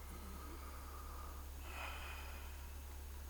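A character in Red Dead Redemption 2 breathing for the doctor during a checkup, a single audible inhale and exhale, soft and close, rising briefly in the middle over a steady low background hum.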